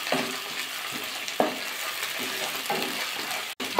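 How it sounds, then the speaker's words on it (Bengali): Onion frying with ginger in a pan for egg rice, a constant close sizzle broken by rhythmic stirring strokes every second or so and a brief pause near the end. "আদা দিয়ে পেঁয়াজটাকে আর একটু ভাজা করে নেবো।"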